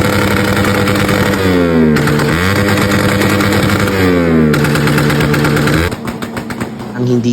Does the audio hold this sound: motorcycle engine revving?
yes